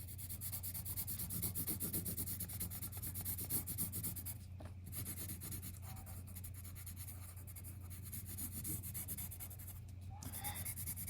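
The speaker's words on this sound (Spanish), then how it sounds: "podemos coger de nuevo el lápiz y darle un poquito más a las sombras proyectadas" A pencil shades cast shadows onto paper while detailing drawn letters, producing a steady, close, quiet scratching and rubbing with a few short pauses and a low background hum.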